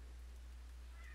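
A short, faint meow from a cat, a single rising call heard over a low steady hum with no talking.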